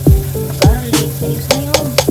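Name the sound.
onions sizzling as they are added to a frying pan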